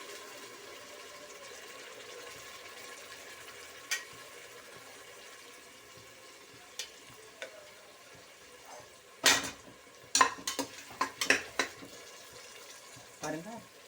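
Ground onion-spice paste hitting hot oil in a pan for paneer pulao, with a faint steady sizzle, then a burst of loud crackling spatters and scraping stirs, close by.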